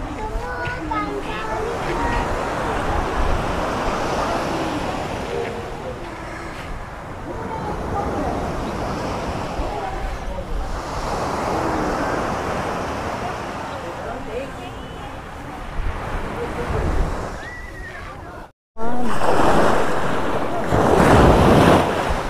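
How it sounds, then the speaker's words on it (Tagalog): Ocean waves roll and crash on the beach at San Juan, Batangas, a loud continuous surf with gusty wind buffeting the microphone, swelling in repeated surges, with people talking nearby and a brief dropout near the end. "Lumalaki yung alon, ano?"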